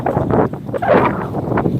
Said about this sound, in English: It's windy today, guys.